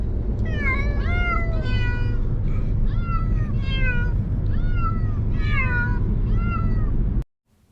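A cat yowls and meows repeatedly from inside a carrier on the way to the vet, loud, close cries in a steady series over a low engine rumble, ending abruptly.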